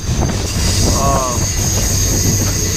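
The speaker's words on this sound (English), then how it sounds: "That's our train right there, guys." The Rocky Mountaineer train rumbles along the rails between Kamloops and Banff with a steady low roar and a brief wheel squeal, while people chat nearby.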